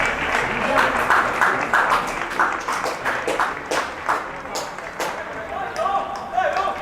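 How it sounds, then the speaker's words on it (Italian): Teammates and youth squads in the stands of an outdoor ground clap for an injured Under 17 player. The sound is a sustained, loose patter of hands with a few sharper claps and indistinct voices mixed in. "che riceve applausi dai propri compagni"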